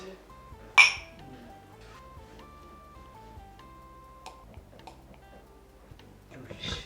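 Glasses clink together in a toast, one bright sharp chink near the start, followed by quiet background music and soft room sounds.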